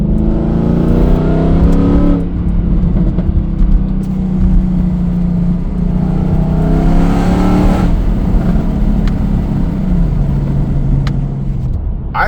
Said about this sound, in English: I'm so partial to the exhaust on this car